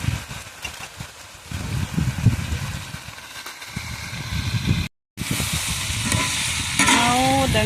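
Onions and carrots frying for plov over a homemade outdoor stove, a dense continuous sizzle with stirring scrapes, close up, briefly cutting out, then a faint warbling tone near the end.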